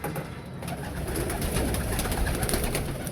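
Pigeons cooing on a city rooftop, a soft steady murmur of low calls continuing throughout against a constant hiss of outdoor background noise.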